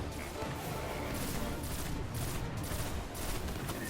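Shotgun fire in the video game Destiny, a continuous chaotic barrage of blasts and crashes at moderate loudness, dense and overlapping throughout.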